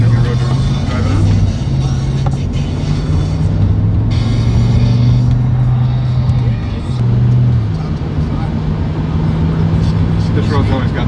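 A car on a test drive rolls down a road, a steady engine drone with tire and wind noise inside the cabin, while a person talks over it.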